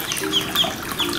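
A duckling, held in a bucket of water, peeps loudly like a chick: several shrill, high chirps in quick succession, close and clear.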